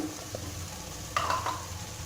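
Peas, potato, beans and carrots are stirred and sautéed with softened tomato in a pan for vegetable biryani: a steady soft sizzle under close scraping stirs with a brief clatter of a utensil against the pan.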